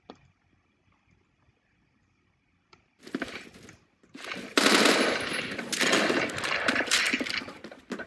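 Rapid automatic gunfire in the first-person shooter game Phantom Forces, a loud, dense burst that starts after a quiet stretch and keeps going to the end, with no talking.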